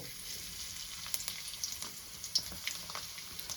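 Chopped garlic frying in hot white oil for noodles gives a quiet, steady sizzle with small crackling pops close by, and no voices.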